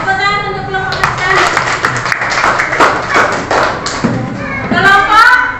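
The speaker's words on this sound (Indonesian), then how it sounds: "Tepuk tangan untuk kelompok Marsha." Children in a classroom clap for one group of classmates, a series of sharp claps in a loose rhythm mixed with young voices and chanting throughout.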